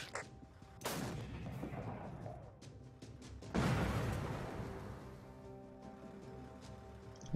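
Artillery fire in the war strategy video game Afghanistan 11: two heavy booming blasts a few seconds apart, each with a long rumbling decay, over a low background drone.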